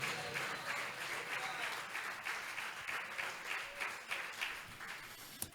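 A church congregation applauds during a Bible study on the resurrection, with sustained crowd clapping and a few cheers rolling on for several seconds.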